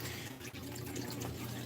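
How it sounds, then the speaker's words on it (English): Fish food splashing onto the water surface of a tank holding baby betta fish, a steady close watery patter with light splashes running continuously throughout. "I'm trying to get them surface oriented by splashing food at the top"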